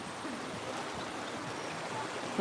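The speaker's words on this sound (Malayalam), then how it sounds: "പാലക്കാട് ജില്ലയിലെ മൈലാമ്പാടം എന്ന സ്ഥലത്താട്ടോ വെള്ളച്ചാട്ടം" Mailampadam waterfall in Palakkad district rushes as a steady broadband roar of falling water, even and continuous throughout, with a faint short sound near the end.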